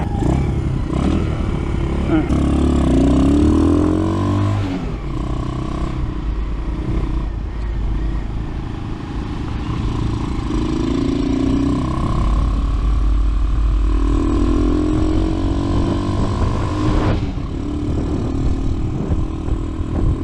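A small nitro engine on an RPS Racer 140 RC car with a Nibbi PE24 buzzes and revs continuously, its pitch rising and falling in repeated throttle bursts, loud and close.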